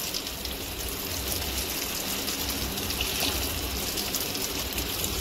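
Water running from a household tap, a steady continuous splashing gush that stays even and fairly close throughout, with no voices.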